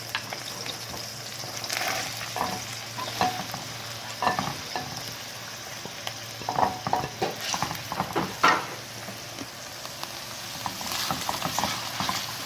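Mushrooms and a chicken stock cube sautéing in melted butter, with a steady sizzle under repeated scraping and stirring strokes, close and moderately loud.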